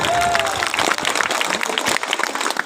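Crowd applause at a political meeting fills the whole stretch, dense and steady clapping from many people, with some voices mixed in underneath.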